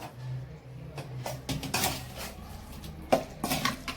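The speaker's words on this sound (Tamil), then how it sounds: "மிளகுத்தூள் போட்ட உடனே ஒரு கிளறிட்டு இறக்கிக்கலாம்" Meal maker gravy with pepper being stirred in a cooking pan, with a spoon scraping and clinking against the metal in several short bursts and a sharper knock near the end.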